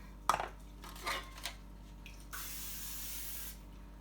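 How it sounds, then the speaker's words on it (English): A few metallic clinks and taps, then a steady hiss of aerosol cooking spray on a muffin tin for about a second, close and fairly quiet. "and then spray your muffin tins"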